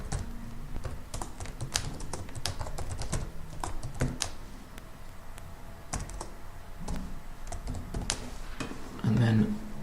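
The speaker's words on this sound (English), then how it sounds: "type it in" Typing on a computer keyboard while entering an address into a letter in a word processor, with rapid irregular key clicks running steadily throughout at close range.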